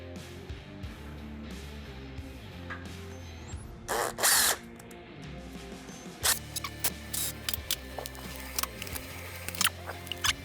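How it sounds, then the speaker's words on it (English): A power drill whirs steadily while boring holes in the interior of a 1974 Ford Maverick, its motor pitch shifting, broken by sharp bursts and clattering knocks near the end. "Let's drill some holes."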